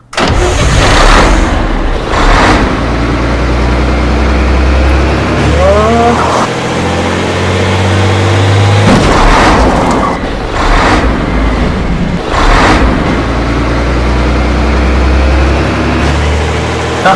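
A bus engine in Garry's Mod DarkRP cranks and catches, then settles into a loud, steady idle rumble broken by a few sharp bursts and a brief whine.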